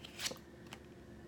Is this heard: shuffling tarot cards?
yes